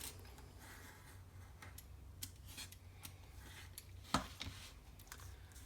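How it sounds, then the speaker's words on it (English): Scissors snip through the paper spine strip for a small concertina book, with a few faint close cuts and one sharper crisp snip near the end in a quiet room. "So cut the spine."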